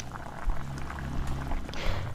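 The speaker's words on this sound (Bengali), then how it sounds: "আমি লুচি ভাজছি।" Luchi fry in hot oil, a close, bubbling sizzle that swells and eases in uneven bursts across the short stretch, with no voices over it.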